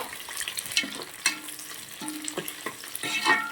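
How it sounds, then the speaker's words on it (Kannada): Green chillies fry in a pan while a spoon stirs them in short scraping strokes over a soft, steady sizzle, close and moderately quiet, with no talking. "ಹಸಿಮೆಣ್ಸಿನ್ಕಾಯಿನ ಒಂದು 2 ನಿಮಿಷ ಹಸಿ ವಾಸನೆ ಹೋಗೋ ತನಕ ನೀಟಾಗಿ ಕೈ ಆಡಿಸ್ಕೋಬೇಕು"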